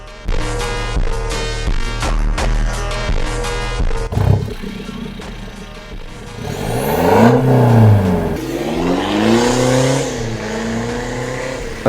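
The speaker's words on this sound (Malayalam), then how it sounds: "ഫുൾ സിസ്റ്റം എക്സോസ്റ്റ് ആണ്." A BMW F30 320d diesel with a full-system exhaust and Akrapovic replica tips, revved up close and loud: a steady rumbling idle gives way to several sweeping rises and falls in engine pitch.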